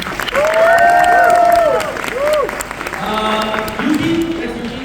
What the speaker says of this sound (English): Can you give Prabha a applause, please?